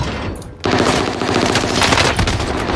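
Loud, sustained machine-gun fire in a video game: after a brief quieter moment, continuous rapid automatic bursts fill the rest of the clip, close and dominant.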